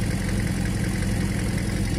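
A Kawasaki ZZR motorcycle engine idling at its first start of the season, a steady low rumble with fast, even firing pulses that holds constant and close throughout, with no voices.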